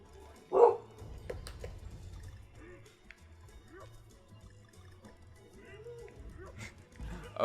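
Barco, a pet dog, gives a single sharp bark close by, with a second bark at the very end, over quiet background noise and a voice talking softly at times.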